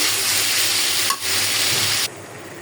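Garlic frying in a pan makes a loud, continuous close sizzle, briefly dipping as something is moved, then dropping to a quieter hiss near the end.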